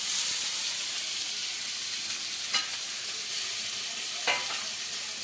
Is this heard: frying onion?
yes